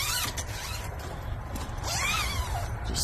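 A screen zipper being pulled open on a 2021 Winnebago Travato camper van, a steady raspy zipping run through the whole stretch, close and moderately loud with no talking.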